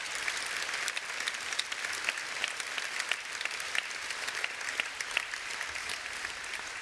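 A trade union national conference audience breaks into sustained, even applause, a dense wash of many hands clapping steadily at moderate loudness for the whole stretch.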